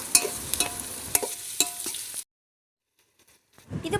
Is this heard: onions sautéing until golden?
yes